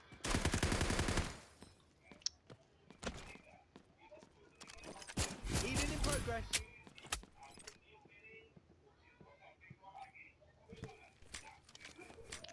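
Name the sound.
shotgun fire in Delta Force Mobile video game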